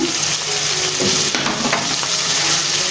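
Chopped tomato and turmeric powder frying in a hot pan, a steady close sizzle with brief stirring scrapes, heard alone with no talk.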